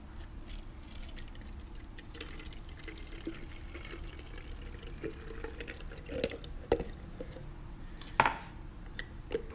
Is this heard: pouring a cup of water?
yes